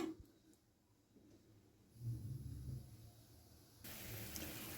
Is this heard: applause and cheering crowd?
no